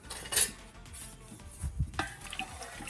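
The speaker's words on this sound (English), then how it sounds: "I'm gonna stir so that I know that that sugar's all melted." Sugar being stirred in a pot of liquid for pickled beets, a spoon scraping and clinking against the pot in a few short strokes, fairly quiet and close.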